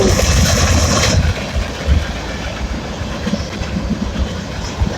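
A freight train rumbles past up close, led by a Kansas City Southern SD70ACE locomotive running with a Norfolk Southern unit. A loud engine roar gives way to a steady rolling clatter of wagons that carries on to the end.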